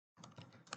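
Someone types on a computer keyboard while entering data into a finance application, a brief rapid patter of close key clicks starting after a short silence.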